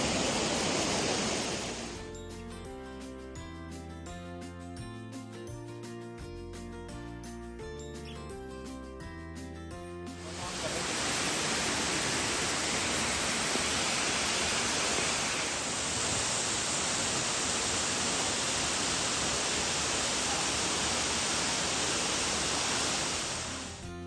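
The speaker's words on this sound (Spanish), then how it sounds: "Vamos a ver si nos podemos acercar un poquito más a la cascada." A waterfall in a forest on La Palma roars as a broad, steady rush of falling water, loud and continuous, dipping briefly and then swelling to full strength as it draws nearer.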